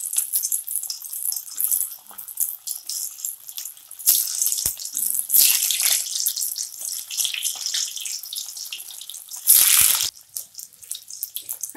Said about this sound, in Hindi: फिर उसमें एक एक आलू छोड़ेंगे। तो ऐसे हम स्टीम किया हुआ आलू छोड़ देंगे।